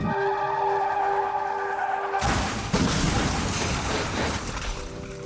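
A truck skids, rolls over and slides off the road, a tonal whine cutting abruptly into a loud broad scraping, crunching rush with an impact thump, then continued grinding noise, no talk.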